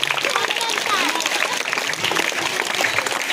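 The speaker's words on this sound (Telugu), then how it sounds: "బొకేను అందించేటప్పుడు క్లాప్స్ కొట్టాలండి." Schoolchildren clap together at a Teachers' Day celebration in a Zilla Parishad high school as a bouquet is handed over, a continuous, fairly loud patter of many hands mixed with a murmur of voices and a spoken announcement.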